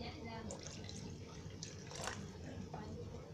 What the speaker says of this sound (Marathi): आता त्याच्यामध्ये आहे ना मी पाणी टाकते.